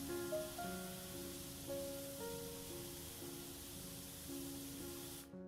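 A power washer's jet hisses continuously as it sprays and rinses away soap in Powerwash Simulator 2, a steady, close water spray with soft tonal sounds underneath, cutting off abruptly at the end.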